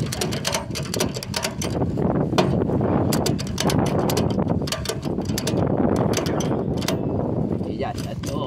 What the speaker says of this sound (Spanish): A soltar para tensar un poquillo más, porque si no me se llena el carrete